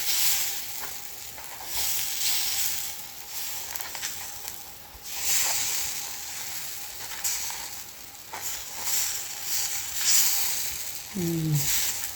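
Spring onion and carrot pancake batter sizzling steadily in a hot pan, a continuous close frying hiss with small crackles throughout, no talking.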